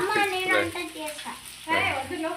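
Fish sizzles as it fries in a pan, a crackling hiss under a voice talking nearby.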